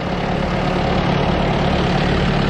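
A tractor pulls a homemade roller, converted from a Lemken roller, while sowing rapeseed. Its engine gives a loud, steady, low rumble that holds without a break.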